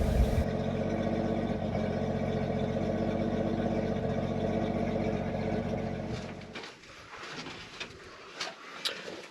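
An International C1300 truck engine idles with a steady low rumble and fine harmonic rattle, then cuts off after several seconds, leaving quiet ambience and a few faint knocks.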